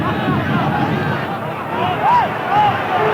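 A football stadium crowd at a Coritiba versus Corinthians match in 2000 murmurs in a broad, restless hubbub with rising displeased whistles and groans, heard under a commentator's continuous talk.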